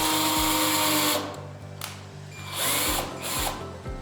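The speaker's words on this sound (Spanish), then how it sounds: "Pues con el taladro, firmemente, mis queridas amigas, ustedes perforan su pieza." A power drill whines steadily, revving up and down in several pulses as it bores into material, close and fairly loud.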